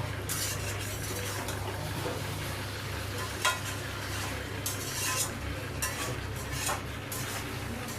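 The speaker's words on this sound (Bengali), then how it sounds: "দিয়ে ভালো করে আবার নাড়াচাড়া করে ভালো করে আবার কষতে দেবো।" Chicken and potato pieces sizzle steadily in a pan as they are stirred and fried, with a continuous hiss and occasional scrapes and clinks of a utensil against the pot.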